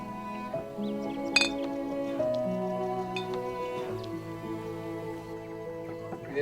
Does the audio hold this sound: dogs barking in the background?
no